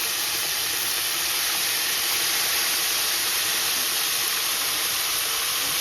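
Snapper fish frying in hot oil gives a steady, dense sizzle and hiss that holds evenly throughout, close and fairly loud, with no voices over it.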